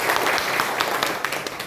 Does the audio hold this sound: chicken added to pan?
no